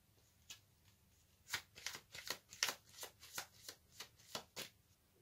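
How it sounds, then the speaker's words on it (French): Tarot cards shuffled by hand, a quiet sequence of crisp riffling snaps and flicks, starting sparse then coming in quick clustered bursts, close and without talking. "Je vais tirer une carte supplémentaire."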